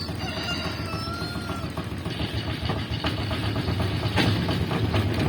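A walk-behind tractor engine chugs steadily at an idle, its low rumble continuous throughout, with faint bird calls and clucks scattered over it.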